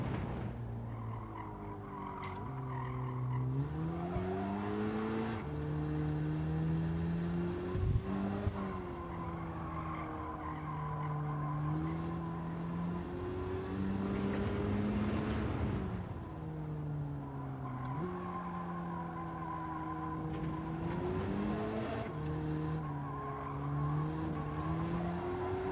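Car lapping the GP circuit in a racing video game, engine climbing and dropping through gears with repeated tire squeals under braking, continuous and close for the whole stretch.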